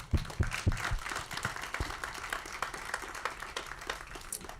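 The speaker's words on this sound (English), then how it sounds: "Let's clap it up a little bit more." An audience claps at a panel event on inequality, with a few sharp, close claps at the start, then a steady, moderate round that tapers slightly toward the end.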